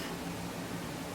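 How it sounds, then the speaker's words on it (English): An air conditioner runs in the background of a room during a yarn and desk cleanup, giving a steady broadband hiss with a low hum that stays constant and fairly quiet. "you can probably hear the air conditioner in the background"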